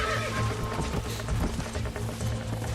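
Horse hooves clip-clop in a Red Dead Redemption Western game scene, a steady galloping rhythm with a brief whinny over a continuous game soundscape and ambient music.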